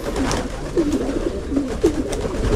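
Pigeons coo in a loft, several soft repeated coos at moderate distance over a steady low background hum, with no talk.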